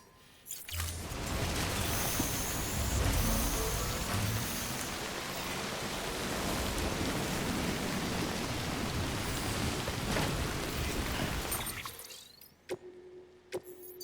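Steady rain hisses throughout a stretch of Death Stranding gameplay, a dense even wash of downpour that stops abruptly near the end, leaving near silence with a few faint clicks.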